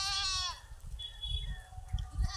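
A goat lets out one loud, wavering bleat close by, followed by quieter outdoor rustling and low rumbles.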